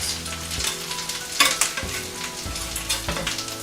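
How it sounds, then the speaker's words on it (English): Gluten-free tuna and mackerel cakes fry in a little oil in a pan, a loud close sizzle with a few clatters and scrapes from turning them. "Now while the tuna cakes are getting cooked"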